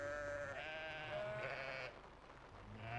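Sheep in a flock on a transhumance drive bleat in overlapping, wavering cries. Several bleats come close together, fall briefly quiet, then resume near the end over a low outdoor hum.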